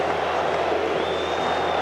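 Baseball stadium crowd at the 1980 World Series between Kansas City and Philadelphia, a steady, broad roar of many voices with scattered applause, sustained and even throughout, with a faint tone running beneath.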